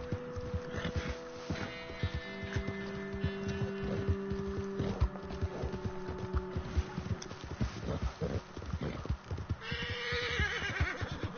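A horse in the video game Red Dead neighs and whinnies loudly several times over a steady clip-clop of hooves, with a lighter whinny near the end and no talking.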